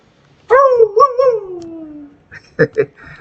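A dog on a small terrace lets out a single long, loud howl that bends and falls in pitch for nearly two seconds, followed by a couple of short, voice-like yelps.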